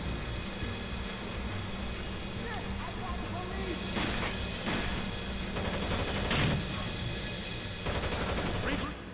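Rapid gunfire from the video game Rainbow Six Vegas crackles in short bursts over a dense, continuous game soundscape, with sharper shots standing out near the middle and end.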